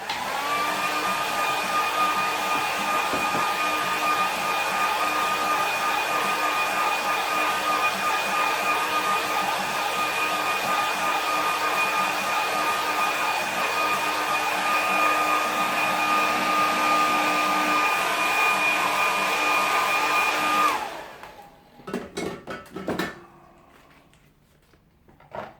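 A hair dryer blows steadily on a watercolour landscape painting, a loud, even whirring roar for about twenty seconds before it switches off, leaving a few faint knocks and rustles.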